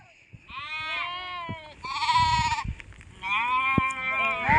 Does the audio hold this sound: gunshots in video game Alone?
no